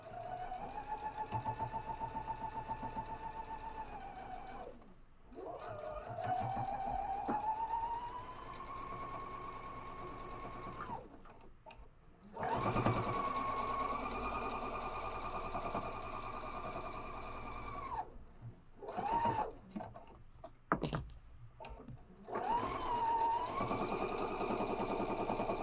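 A home sewing machine runs in long steady bursts of top stitching with brief pauses between runs, loud and close, with no voices.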